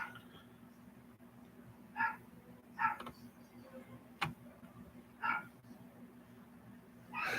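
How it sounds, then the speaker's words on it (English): A dog barks at something outside a house in a few short, muffled yips at irregular intervals. The barks are faint and distant against quiet room tone. "Is your dog barking at something outside the house?"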